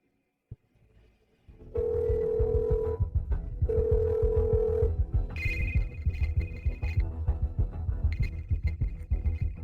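A telephone rings in a home during an Indonesian drama: two long, steady electronic ring tones, then a higher-pitched ring repeating over a busy, thumping background.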